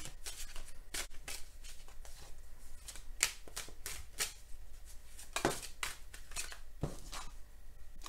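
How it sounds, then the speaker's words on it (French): Tarot cards being shuffled by hand, a string of crisp riffling and flicking bursts at irregular intervals, close and fairly quiet, with no talking. "je bats les cartes et je prends uniquement celles qui sautent"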